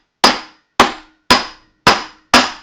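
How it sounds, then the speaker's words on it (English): Five sharp metallic hammer strikes on a small gold piece in a dapping block at an even pace, each a bright ringing tap that decays quickly, close up and alone. "what I'm going to do is hammer this down just to add a little curve"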